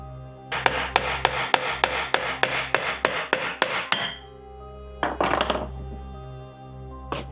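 A hammer strikes a stuck air spring on a Range Rover suspension again and again, a loud sharp metallic rhythm of about a dozen even blows, then a pause, then a short cluster of quicker hits.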